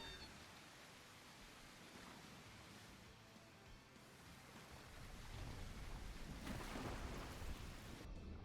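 Steady rain with rolling thunder in the video game The Isle Evrima, a dense, continuous wash of storm noise that swells louder in the second half with a deep rumble, no voices.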